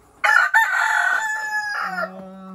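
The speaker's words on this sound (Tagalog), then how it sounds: "Tapos yung manok dito, yung Texas natin" A single rooster crows nearby, a loud, drawn-out call that rises and then trails off.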